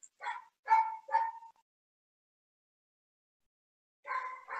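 A dog at home barks and whimpers in three quick yelping bursts, falls silent for a few seconds, then yips twice more, close and clear with nothing else audible.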